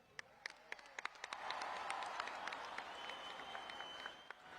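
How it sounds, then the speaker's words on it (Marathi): A crowd at the opening ceremony of the President Cup India 2026 tennis-ball cricket tournament applauds to welcome Salman Khan, starting with scattered sharp claps that swell into steady, moderately distant applause. "सलमान भाईचं स्वागत करायचं जोरात टाळ्या वाजवून।"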